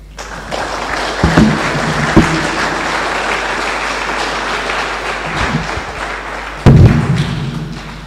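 An audience gives a keynote speaker sustained applause at a live World Philosophy Day 2025 event. Steady clapping runs throughout, with a few heavier thumps and a louder surge near the end.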